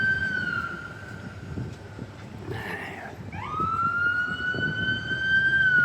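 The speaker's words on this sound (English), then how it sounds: "Oh, hospital ambulance." A hospital ambulance siren wails downtown near a hospital construction site, rising clearly over traffic hum and growing louder toward the end.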